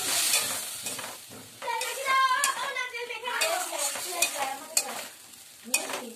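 In a pan with a splash of water, food is sautéed and stirred while a soft sizzle rises under scraping spatula strokes. A voice speaks briefly partway through, and a few sharper clacks of utensil on pan stand out near the end.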